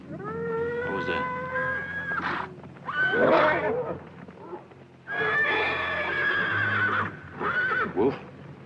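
Several horses, one a restless stallion, neigh and whinny in loud drawn-out calls at a Western ranch, with a couple of separate bursts and some snorting between them. Faint hoof clopping sits underneath.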